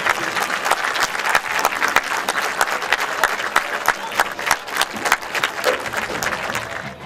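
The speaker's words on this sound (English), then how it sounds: "Let's have another big round of applause for all of these bands tonight." An audience gives sustained applause for high school marching bands at a district music performance assessment, with dense steady clapping and faint crowd murmur throughout.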